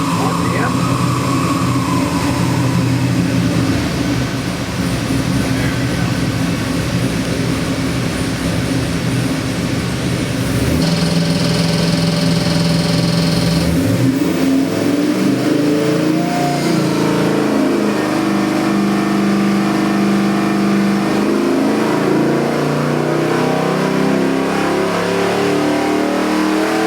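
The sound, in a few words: LS7 427CI 625HP crate engine starting and revving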